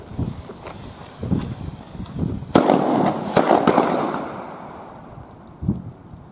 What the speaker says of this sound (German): Dann machen wir mal einen kleinen A-Böller-Kreis, ne?